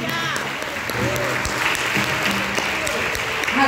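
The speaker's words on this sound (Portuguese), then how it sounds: "E se você crê, diga amém e aplauda ao Senhor com alegria." A church congregation applauds joyfully in praise, sustained clapping from many hands with worship music and voices running beneath it, steady and fairly loud throughout.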